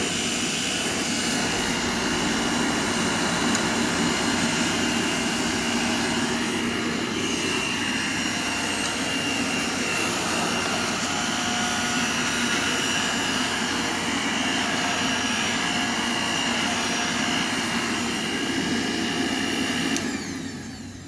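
A Regina electric broom vacuum cleaner with a cracked housing and three speeds runs loudly and steadily with a constant whine throughout, close up, with no talking.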